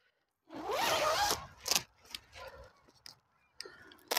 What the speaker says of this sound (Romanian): Aici se trage fermoarul.